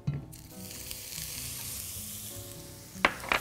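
A spoonful of butter sizzles in a wok, a steady close frying hiss with faint tonal hum underneath, ending in a couple of sharp utensil clacks.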